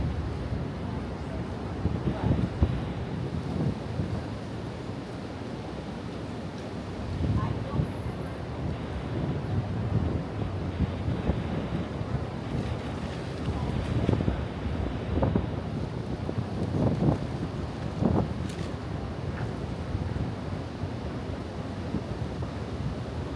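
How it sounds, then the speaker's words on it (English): Gusty wind blows by the river in Manhattan's Tudor City, buffeting the microphone in steady roaring bursts that swell and ease, with faint water and city ambience beneath and no clear talk. "It is a little windy though."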